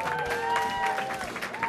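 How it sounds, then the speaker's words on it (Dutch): Audience applause for a guest on stage at a Dutch-language event, brief steady clapping of moderate loudness mixed with sustained musical tones and some crowd noise. "mag ik een applaus voor Jana?"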